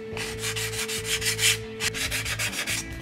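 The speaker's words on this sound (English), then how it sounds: "Just use it to lightly sand." Light sanding of foam edges with a handheld sanding stick while building steampunk cosplay goggles: close, steady rhythmic back-and-forth rasping strokes, about a dozen in quick succession, with a faint constant hum underneath.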